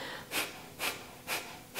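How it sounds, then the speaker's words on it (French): Breath of fire from a vinyasa yoga session: four quick, forceful exhales through the nose at an even rhythm about half a second apart, close and soft, with no talking. "on plie et on vient faire la respiration du feu"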